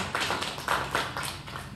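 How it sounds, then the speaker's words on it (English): A congregation clapping their hands in church, a few loose, uneven claps at moderate distance over a short stretch. "Give the Lord a hand clap."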